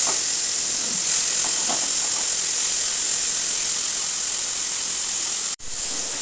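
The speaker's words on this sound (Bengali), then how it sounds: "তেল গরম হয়ে গেছে, দিয়ে দিচ্ছি লবণ হলুদ মাখানো চিংড়ি মাছ।" Salt-and-turmeric-coated shrimp hitting hot mustard oil in a pan give a loud, steady sizzling hiss that runs throughout without a break, cutting out sharply for a moment near the end.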